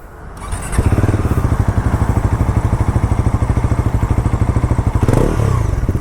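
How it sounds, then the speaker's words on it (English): Bajaj NS 400 Z 350cc motorcycle idling loud and close, its exhaust beating a quick, even thump that starts after a short lead-in, with a brief rev blip near the end. "let's also hear the latest engine sound from those exhausts"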